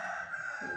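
A rooster crows in one sustained, strained call, fairly close and clear, lasting under a second.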